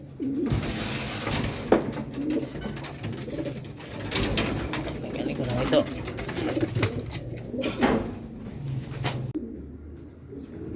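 Racing pigeons coo softly at a loft after a race lap, a low repeated murmur under close talking and rustling.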